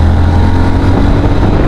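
A Yamaha FZS motorcycle accelerates in third gear, its engine a loud, steady, close drone with a strong low hum and no voices over it.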